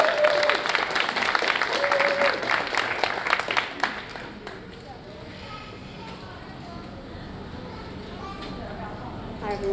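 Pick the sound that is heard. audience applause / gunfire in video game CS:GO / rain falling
audience applause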